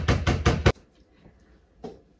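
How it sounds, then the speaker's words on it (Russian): A meat mallet pounds a piece of meat in a home kitchen, four heavy, rapid thuds in a row, then a pause and one more blow, close and loud. "И так вот стучите по мясу"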